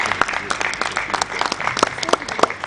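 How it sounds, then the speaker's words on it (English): An audience at a conference on financial fraud and cybercrime applauds steadily for a few seconds, a dense wash of clapping with a few sharper individual claps standing out. "Another round of applause for him"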